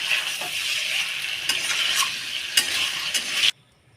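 Chicken meat sizzles and fries in a pan on a gas stove for a home-style chicken biryani, a steady close hiss with occasional stirring scrapes, stopping abruptly near the end.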